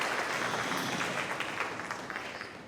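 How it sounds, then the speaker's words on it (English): An audience applauds a sixth-grade student band with loud, dense clapping that carries throughout and fades slightly toward the end. "Give another round of applause."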